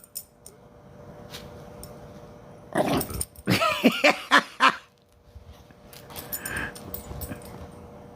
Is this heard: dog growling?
yes